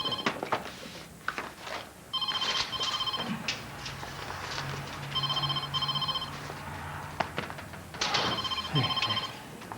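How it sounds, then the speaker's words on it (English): A telephone rings over and over in repeated bursts of electronic trilling and is never picked up, with faint thumps and room sounds between the rings. "Decades of education and nobody can answer the phone."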